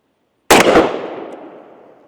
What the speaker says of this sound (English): Let's go ahead and shoot some more 44 Magnum through it.